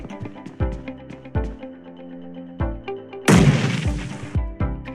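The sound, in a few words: grenade explosion in BGMI / PUBG Mobile video game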